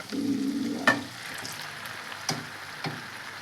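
Beef macaroni stirred in a hot pan, with a steady sizzle under a few sharp scrapes and knocks of the spoon against the pan, close and alone.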